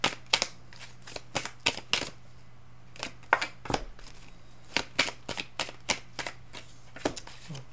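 Druid tarot cards are shuffled by hand, giving a quick series of crisp riffling flicks and slaps at close range, with no talk over them.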